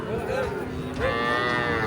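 A nine-month-old Sahiwal crossbreed calf moos close by, a long drawn-out bellow that rises and wavers for about two seconds.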